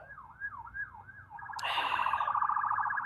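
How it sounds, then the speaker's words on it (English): A wailing siren sweeps up and down, then switches to a louder, steadier, harsher tone, sounding from some distance with no talking. "Well, you hear that siren."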